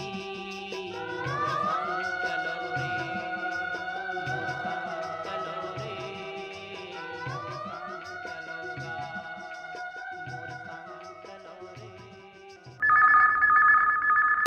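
A telephone rings repeatedly on a Chhattisgarhi-language radio phone-in song programme from Akashvani Raipur, its trilling bell running under recorded music before a louder, brighter ring bursts in near the end.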